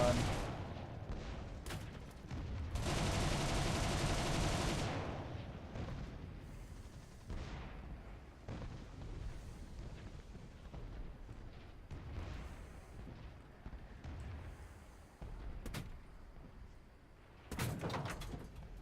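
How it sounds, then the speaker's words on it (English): Bursts of defensive gunfire from bomber gunners in War Thunder, aimed at a Bf 109 G-14 over Sicily, with one long sustained burst early and scattered distant shots over steady engine drone. "I could do without you shooting me right now."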